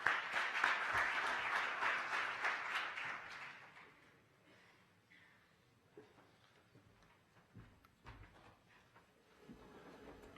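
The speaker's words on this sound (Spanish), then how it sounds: "Para él pido un fuerte aplauso." Audience applause fills a conference hall at a restructuring and insolvency event, loud dense clapping for about four seconds before fading into quieter room noise with scattered faint sounds.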